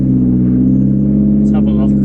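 A Toyota Starlet EP82 engine idles with a steady, close, loud low hum, briefly joined near the end by a faint higher noise.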